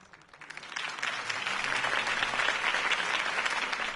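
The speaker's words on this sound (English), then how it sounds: "could have heard that applause" Crowd applause in the video game Batman: The Telltale Series swells from a quiet start into steady, sustained clapping and cheering that holds loud and full to the end.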